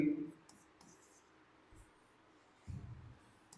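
Chalk or marker strokes on a board during a maths lesson on calendar odd-day problems, a few short scratchy bursts spread across a quiet room, with faint low murmurs between them.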